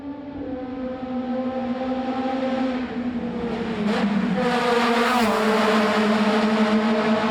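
A Caterham 620R sports car races through a tunnel, its engine revving high and climbing through the gears in a loud, echoing wail that keeps building.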